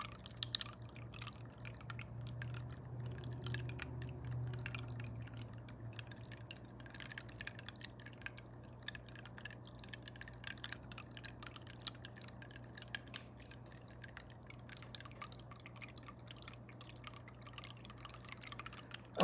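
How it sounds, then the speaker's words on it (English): A small indoor water fountain trickles softly and steadily throughout, faint and close, over a low constant hum in a quiet room. "Maybe you can hear my fountain better now."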